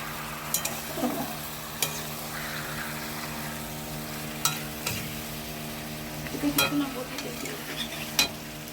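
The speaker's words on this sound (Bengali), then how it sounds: "মাংসটা দিয়ে একটু নেড়ে নেবো। এটা কিন্তু ভালো করে নাড়তে হবে।" Chicken meat being stirred in a frying pan, a low steady sizzle broken by occasional clinks and scrapes of the spoon, with a faint steady hum underneath and no voices.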